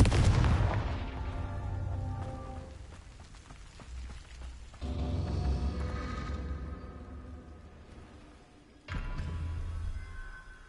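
Confringo fire spells burst in Hogwarts Legacy, three heavy booming explosions spaced a few seconds apart, each followed by a rumbling, crackling decay.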